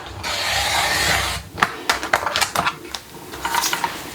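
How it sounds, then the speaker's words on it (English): Paper trimmer slicing the white border off a sublimation print, a long steady rasp of the blade followed by a series of short scraping and clicking strokes, close up with no talk. "I'm going to use the paper trimmer to get rid of any white area."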